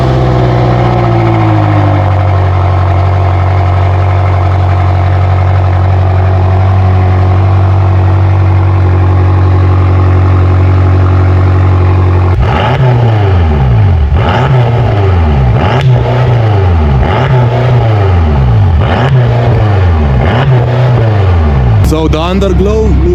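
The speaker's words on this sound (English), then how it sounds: "We're going to show you how it sounds, the custom exhaust" A Porsche with a custom exhaust idles loudly, then blips through a rapid series of revs, each rise and fall repeating in a steady rhythm, with people talking over the engine throughout.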